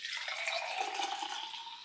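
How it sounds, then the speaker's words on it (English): Freshly pumped breast milk being poured, making a steady, continuous liquid stream that lasts the whole short moment, close and clear with no talking. "let's pour my first pump of the day."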